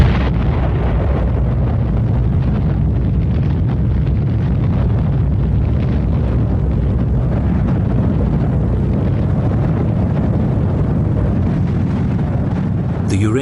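The uranium atomic bomb Little Boy detonating, a sustained, loud, deep roaring rumble that fills the whole stretch with little change, like a massive blast heard through a broad wash of noise.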